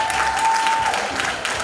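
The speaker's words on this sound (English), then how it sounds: "Big round of applause, ladies and gentlemen." Applause at an awards ceremony as a former cricketer is called to the stage, a steady, loud wash of clapping filling the whole moment.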